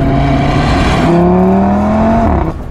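A 2017 Audi RS3 engine revving hard under acceleration, loud and close, its rising tone climbing through a gear before cutting off abruptly near the end.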